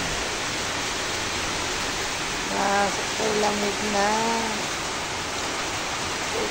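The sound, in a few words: heavy rain and strong wind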